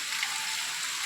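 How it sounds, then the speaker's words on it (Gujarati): Rain falling over a village, a steady, even hiss that holds at a constant level for the whole moment with no other sounds standing out. "વરસાદ દેખાડો બધે"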